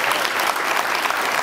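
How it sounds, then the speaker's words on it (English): An audience claps steadily and loudly at a live business talk, a dense continuous wash of applause filling the whole moment with no voices on top. "I just want to clap up the last one more time"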